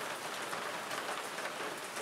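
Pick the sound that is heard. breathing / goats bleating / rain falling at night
rain falling at night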